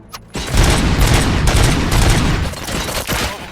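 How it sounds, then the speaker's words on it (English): In the RoboCop: Rogue City video game, loud, rapid bursts of gunfire rattle continuously in a close, booming fusillade with repeated sharp shots. "Gunshots? What's going on?"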